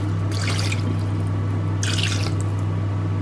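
Water is poured into a pot while cooking rice, in two short splashing bursts separated by a pause, over a steady low electrical hum.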